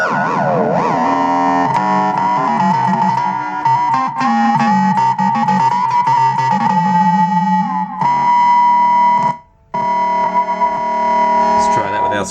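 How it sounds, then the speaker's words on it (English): Electric guitar played through the ring modulator effect of a Line 6 Floor Pod Plus, producing a continuous metallic, wobbling and siren-like tone with distorted sustained notes, loud and steady with one brief dropout near the end. "Ring modulator."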